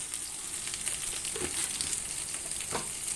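Ingredients for ridge gourd chutney with tomato, coriander, salt and a pinch of asafoetida sauté in a pan, giving a steady, soft hissing sizzle with a couple of light stirring scrapes.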